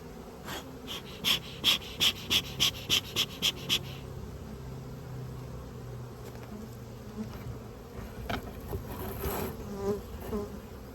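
Honey bees buzz close around a beehive during a spring split, a dense steady hum with a short run of rhythmic pulses near the start.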